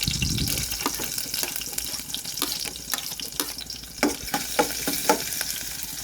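Garlic frying in a pan for a Bikol-style pancit, with a steady broadband sizzle and repeated sharp clinks of a utensil stirring against the pan toward the end.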